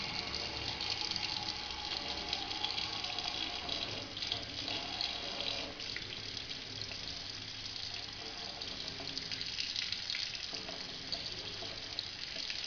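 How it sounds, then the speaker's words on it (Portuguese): A tap runs with a steady, continuous stream of water throughout, loud and close, in a simple Bernoulli principle demonstration where a ball is tossed toward the flow. "Inicialmente nós vamos ligar a torneira, o fluxo de água, e vamos lançar a bola em direção ao fluxo."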